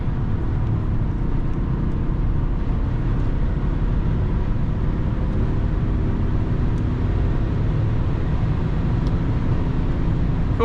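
A 2007 BMW 730d E65 diesel sedan accelerating from 100 to 200 km/h on a motorway, heard as a steady, loud in-cabin drone of engine, road and wind noise that holds throughout without talk.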